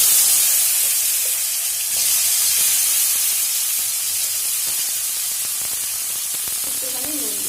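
Potatoes sizzle in hot oil in a pan, a steady dense hiss with occasional pops and stirring scrapes, close and continuous.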